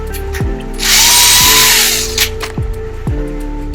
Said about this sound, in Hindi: अब ड्रिल करके देखते हैं।